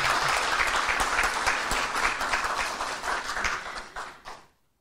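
Audience in Gwangju clapping warmly at a political rally, dense, close applause that holds steady for about four seconds and then tapers off into silence.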